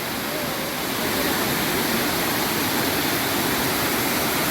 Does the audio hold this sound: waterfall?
yes